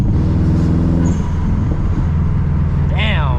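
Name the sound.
Subaru WRX STI loud exhaust and intake noise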